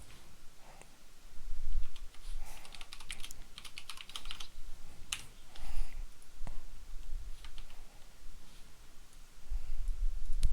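Code being typed on a computer keyboard, bursts of quick clicking keystrokes with short pauses between them, close and clear with no talking.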